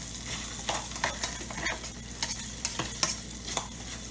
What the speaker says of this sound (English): I have started the Spam in the little kit in the little cup, and I'm just trying to brown it up some